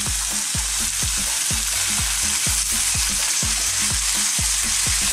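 Sticky pork ribs sizzle loudly in a hot pan as oyster sauce goes in, a dense, constant frying hiss with a regular stirring scrape repeating close by, and nobody speaking.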